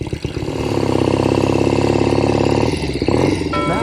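A rare 1970 Royal Enfield Interceptor 750 Mk II motorcycle idles loudly up close, its steady throbbing engine note holding for most of the moment before a brief dip and a blip of revs near the end.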